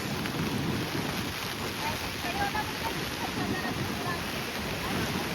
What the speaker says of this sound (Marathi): मित्रांनो लाटा बघू शकताय.